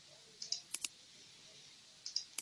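Faint mouse clicks on the Update button in desktop publishing software, heard as a few sharp, quiet clicks in short pairs spaced apart over a near-silent background.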